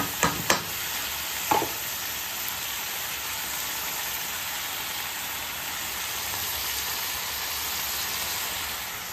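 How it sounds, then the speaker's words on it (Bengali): Spices sautéing in oil in a small wok, a steady close sizzle and hiss lasting throughout, with a few sharp taps of a utensil near the start. "ছোটো কড়াইতে আমি সাতলিয়েছিলাম"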